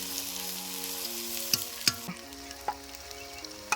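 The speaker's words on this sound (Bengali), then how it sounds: "রসুন দেওয়া হয়ে গেছে পাকানো চলছে" Garlic frying and being stirred in a pan with onion, a soft steady sizzle with several sharp clicks of the spoon against the pan. A faint tonal hum runs underneath.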